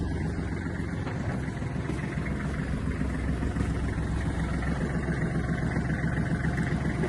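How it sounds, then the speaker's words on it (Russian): A Kubota GL300 30-horsepower Japanese mini tractor with a cab and rotary tiller runs nearby as the tiller is raised and lowered, its engine giving a steady, even mid-pitched drone with no voices. "Подъем, опускание фрезы."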